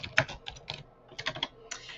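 Irregular clatter of keys as a message is typed on a computer keyboard, quick uneven bursts of clicks close by with brief pauses between.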